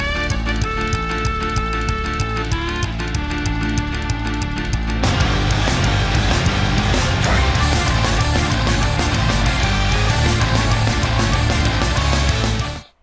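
A dense, loud metal track plays in a music quiz, with full-band playback that thickens partway through and then cuts off abruptly at the end.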